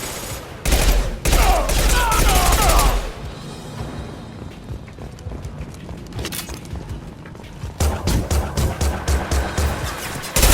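Rapid bursts of gunfire in a Mass Effect 2 firefight, loud, dense volleys at the start and end with scattered shots and thuds in between.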